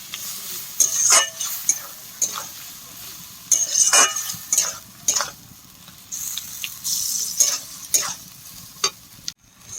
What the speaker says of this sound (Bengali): দিয়ে মশলাটাকে খুব ভালো করে কষিয়ে নেব